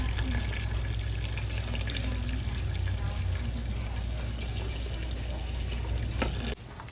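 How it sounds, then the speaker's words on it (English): Filtered water pours steadily from a Brita container into a pot of vegan chili, a continuous close splashing stream that cuts off abruptly near the end. "I added water from my Brita container"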